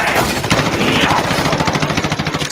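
Rapid gunfire in a shooting game, sustained bursts of repeated shots that stay loud throughout, with a choppy pulsing rhythm toward the end.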